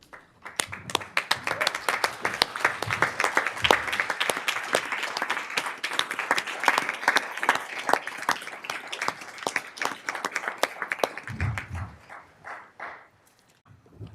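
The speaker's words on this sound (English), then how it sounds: "We'd love to give you a round of applause" Audience at a school district meeting gives a round of applause, dense clapping from many hands that builds, holds for about eleven seconds, then thins out and fades near the end.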